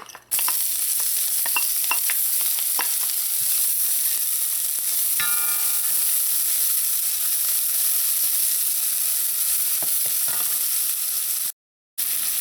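Chopped onion fries in hot oil in a pot, a constant crackling sizzle close up with occasional sharper pops and a few stirring scrapes, ending in a short gap of silence.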